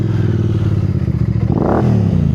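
A Royal Enfield Super Meteor 650 engine rumbles at high altitude, a loud, close, low thrum with clattering texture. A brief rev surges partway through.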